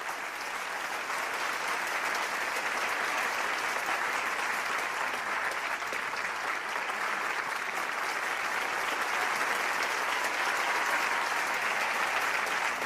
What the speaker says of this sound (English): So please welcome Mrs. Yoon, everyone, with a big round of applause